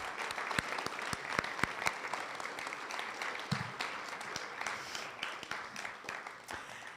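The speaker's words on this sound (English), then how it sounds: "So let's give them a strong round of applause because they're doing it." An audience at a student showcase applauds steadily, a dense wash of clapping with some sharper individual claps standing out, sustained for several seconds at moderate volume.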